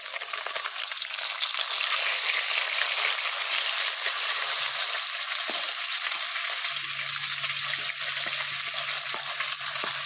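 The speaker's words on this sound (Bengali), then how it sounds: "এইরকম করে সবগুলো মাছ ভেজে নেবো" Fish fries in oil in a wok (kadai), giving a steady bright sizzle that crackles evenly throughout, close up and loud, with faint clinks near the end.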